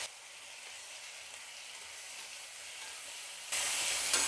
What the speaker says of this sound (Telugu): ఎర్రగడ్డలు అంతా బాగా వేగింది చూడండి.